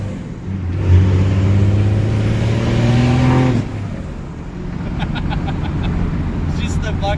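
A six-speed swapped second-generation Cummins diesel dually pickup accelerates from inside the cab, its engine rising in pitch with a loud drone, then easing back to a lower steady hum after a shift as people talk.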